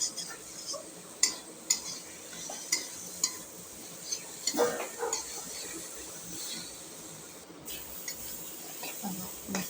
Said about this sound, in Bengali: আমি এভাবেই নাড়তে থাকছি নাড়তে নাড়তে এটা ভাজা ভাজা হয়ে যাচ্ছে